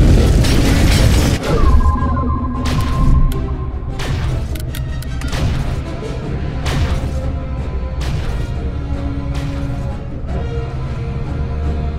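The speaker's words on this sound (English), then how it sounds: "Our mine exploded!" A placed mine explodes in a squad-based war video game, a loud booming blast followed by rumbling debris amid constant battle noise, thuds and distant gunfire.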